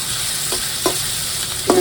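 Vegetable curry with potol, small boiled potatoes and onion, alongside fried fish, begins cooking in a pan on a home stove, giving a steady low frying hiss broken by a few soft stirring clinks, with no one talking.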